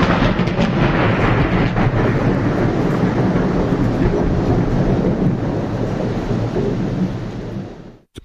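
Loud, continuous roar of heavy rain and rumbling thunder in a thunderstorm with lightning, dense and steady throughout, fading out abruptly at the end.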